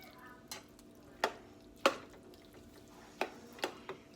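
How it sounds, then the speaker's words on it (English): A spoon stirring corn chowder in a pot, with a handful of soft scraping knocks against the pot spread irregularly over a few seconds, close and quiet with no talk. "I'm going to give it just a little bit of a stir."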